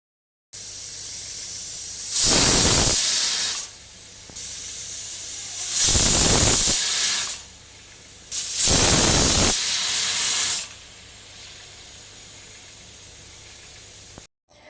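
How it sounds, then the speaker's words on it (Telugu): A pressure cooker cooking bottle gourd whistles out steam in three loud, sustained hissing blasts, each about a second and a half long and separated by quieter gaps, up close with no talking. "ఇప్పుడు కుక్కర్ మూత పెట్టుకొని మూడు విజిల్స్ వచ్చేంత వరకు ఉడికించుకోవాలి"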